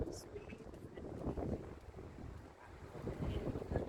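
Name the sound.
strong wind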